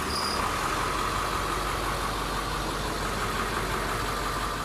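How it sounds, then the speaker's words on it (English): A fuel truck engine idles steadily at moderate level, a continuous mid-pitched hum with a faint high whine, no voices present. "You simply push the start button until the engine starts."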